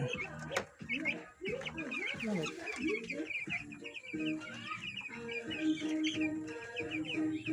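Several chickens cluck and chatter continuously nearby, with occasional higher chirps mixed into the busy flock noise.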